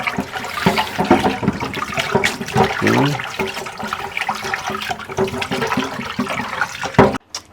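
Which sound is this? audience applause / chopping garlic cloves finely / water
water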